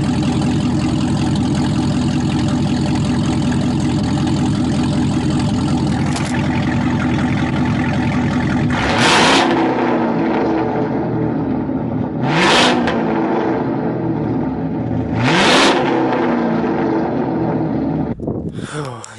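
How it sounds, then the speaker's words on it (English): A Camaro ZL1 engine idles with a heavy rumble, then revs sharply three times in spaced bursts, each roar rising and falling back, loud and close. "I'm gonna rev it up for y'all and let y'all hear it real quick"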